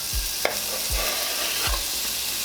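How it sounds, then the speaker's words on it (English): Onions frying in beef steak drippings in a pan for stroganoff, a steady sizzle with three or four sharp spoon or spatula scrapes at regular intervals, close and alone with no voices. "we're gonna keep the drippings from the bottom of this pan from the steak, and we're gonna go in with some onions"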